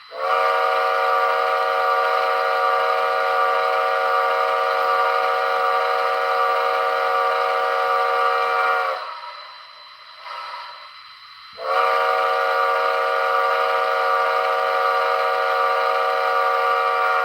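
Steam locomotive whistle in Red Dead, a sustained harmonic blast that cuts out for about three seconds, then resumes, looping with audible clipping and no other sounds.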